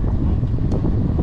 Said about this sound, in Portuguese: agora vento contra, vento sul